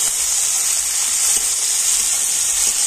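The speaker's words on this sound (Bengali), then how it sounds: "টমেটো তেলের উপরে একটু ভেজে নিচ্ছি" Tomato pieces frying in hot oil in a pan for a fish curry, giving a steady, close, continuous sizzle and crackle with no voices.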